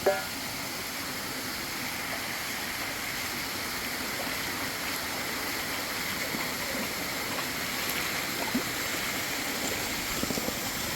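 Water pours from pipes down a hillside, a steady, close broadband rush that stays even throughout with no talk.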